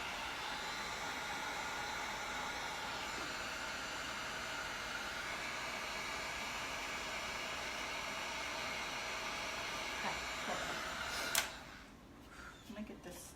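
A hair dryer blows over freshly painted wood on an office desk, a steady, close, loud whooshing whir with a faint motor whine that runs for about eleven seconds and then cuts off abruptly, leaving a quiet room with light handling noises.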